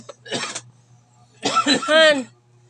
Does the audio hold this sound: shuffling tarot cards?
no